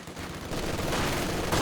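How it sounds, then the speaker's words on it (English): MG42 machine gun fire in a competitive World War II video game, a dense, continuous loud burst of rapid shots rising to a heavier, sustained roar toward the end, with no talk. "MG42 setting up."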